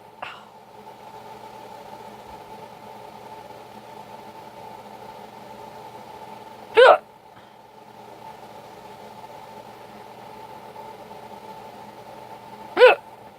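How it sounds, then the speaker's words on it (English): Sharp hiccups from a person, two loud abrupt bursts about six seconds apart, standing out over a steady low engine-like hum in the background. "My hiccups are bad."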